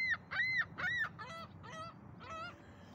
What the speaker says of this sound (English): let's leave the geese to enjoy their prison roaming and let them work out their personal conflicts themselves